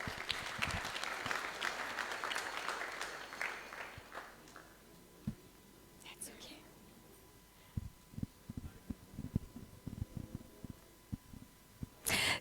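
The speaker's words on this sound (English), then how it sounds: "Let's give her a round of applause." Audience applause at a Sunday Love Feast gathering, a fairly loud burst of dense clapping for about four seconds that thins into scattered, isolated claps and fades, with a low hum underneath.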